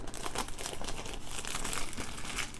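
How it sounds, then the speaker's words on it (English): Plastic wrapping pulled off Traxxas Stampede 4x4 RC truck packaging, a continuous close crinkling and rustling for a few seconds with no talking. "let's take this plastic off"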